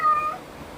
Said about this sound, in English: Sorry, my cat's acting up.